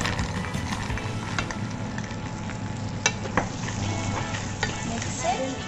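Roasted makhana (fox nuts) is stirred in a sizzling pan with melted butter for a Maggi masala snack, a steady loud frying hiss broken by scraping stirs and a few sharp clinks of the spoon on the pan.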